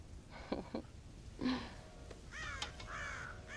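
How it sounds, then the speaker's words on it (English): Crows caw at a silo in the video game Red Dead Redemption, several harsh calls in short bursts over faint outdoor ambience. "God damn crows!"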